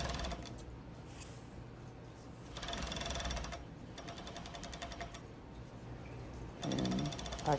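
A serger stitching around a flannel shirt and its band in rapid mechanical bursts, starting and stopping several times with a close rattling hum and no talk.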